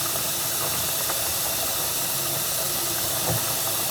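A sink drain pulls water down under strong suction, a continuous, loud rushing hiss that stays even and unbroken for the whole stretch.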